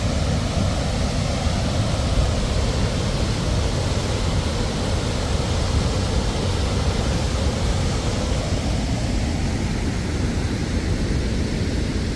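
A Norwegian fjord waterfall near Hellesylt roars steadily and loudly at close range, a dense unbroken rushing wash that swamps everything else.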